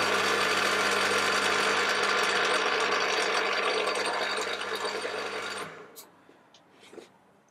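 A drill press spots a hole in steel while a knurling tool is being made from a kit, running as a steady loud mechanical whine for over five seconds before it spins down and leaves a few faint clicks.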